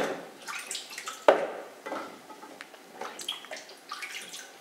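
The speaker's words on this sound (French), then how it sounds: "je vais juste ajouter un peu d'eau" Water pours into a container of carrots, a broad splashing rush with a sharp clunk early on, then uneven trickling and sloshing that fades in and out at close range with no voices.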